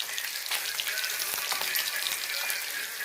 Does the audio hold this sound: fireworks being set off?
no